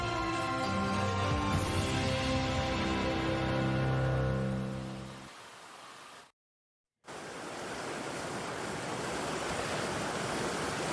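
Water rushes through the locks at Fall River on a wintry afternoon, a steady broad roar of flowing water; a short gap of silence cuts it partway through before the rushing resumes, with no voices.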